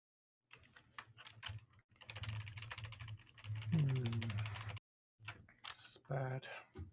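Bursts of rapid clicking from typing on a computer keyboard, close by, broken by short pauses, with a voice talking partway through.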